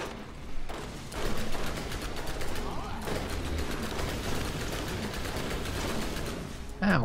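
Rapid gunfire from a fast-reloading gun in the video game Borderlands. Dense bursts of shots repeat steadily, close and fairly loud, with a brief pause near the middle.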